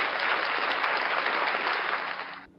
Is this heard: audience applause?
yes